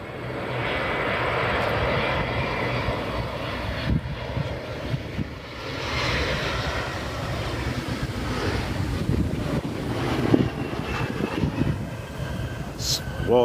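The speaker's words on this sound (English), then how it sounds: "E170 coming in from Boston." A Delta Embraer E170 operated by Republic Airways, arriving from Boston, lands at Cleveland Hopkins airport with a broad, sustained jet roar and rush of wind noise outdoors, while onlookers chat over it.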